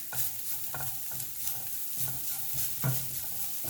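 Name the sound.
spices frying in oil on low flame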